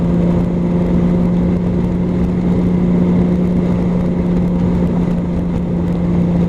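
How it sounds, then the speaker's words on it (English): A Honda Valkyrie motorcycle rides over bridge bumps after major repairs. Its engine holds a steady, droning hum under constant wind and road noise, with no voices. "The bike's riding real nice over the bridge bumps."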